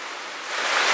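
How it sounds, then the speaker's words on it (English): Heavy rain during the rainy season in Java hisses in a dense, even wash of noise, steady and close, swelling slightly toward the end. "Rainy season in full force."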